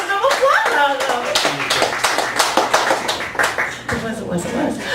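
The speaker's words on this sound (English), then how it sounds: "That was double applause." Cafe audience at a Chicago gallery cabaret claps steadily in a dense, close wash of applause that carries across the whole stretch, with a voice speaking over it.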